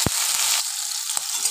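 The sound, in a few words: chopped onion and green chili frying in hot oil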